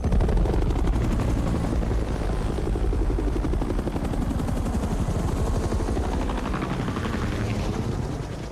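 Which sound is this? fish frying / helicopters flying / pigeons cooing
helicopters flying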